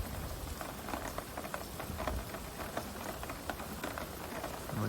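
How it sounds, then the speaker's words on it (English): Heavy rain pours steadily during an intense January rain and windstorm in Pompton Plains, New Jersey, a dense, continuous hiss with scattered louder drips and splashes close by, and no voices. "seems to have lessened in intensity, but it's still pouring out."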